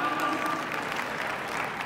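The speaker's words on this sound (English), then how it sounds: "You can clap. It's okay." A conference audience claps as a dense, continuous patter of many hands that holds at moderate loudness for the whole stretch and fades slightly near the end.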